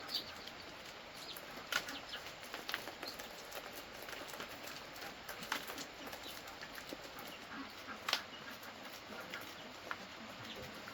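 Two large chickens, a rooster and a hen, peck at hand-scattered corn kernels outdoors. Faint, irregular patter and light flutters sound over a quiet farmyard background.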